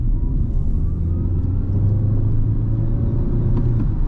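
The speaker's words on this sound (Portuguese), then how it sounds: "Vamos dar mais uma aceleradinha aqui, pessoal, para a gente conferir o desempenho." A GWM Haval H6 hybrid SUV accelerates hard in eco mode, heard from inside the cabin as a steady low rumble, while its combustion engine starts up. No one is talking.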